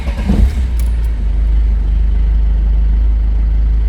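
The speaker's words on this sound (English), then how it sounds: "let's just go ahead and start the car" A Peugeot 306 HDi diesel engine turns over and catches, then settles into a steady low idle that keeps running. No voices.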